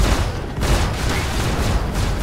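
Missiles launching from an Aurora ship in the space game Star Citizen: a loud, sustained rushing roar with pulsing bursts, heard alone without voices.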